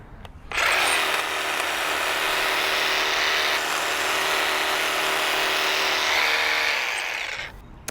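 An ECHO 34-inch single-sided hedge trimmer cuts a hedge, its motor whining in a loud, steady buzz close by for several seconds before winding down.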